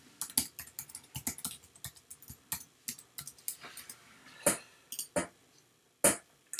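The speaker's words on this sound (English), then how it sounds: "So just type in your password, whatever you have." Quick, light keystrokes on a Mac keyboard as a password is entered, an irregular run of close clicks with a few louder taps near the end, in a quiet room.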